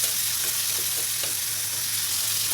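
Mushrooms with salt stir-fry in a pan, a steady close hiss and sizzle with faint scraping stirs, continuous and fairly loud without talk.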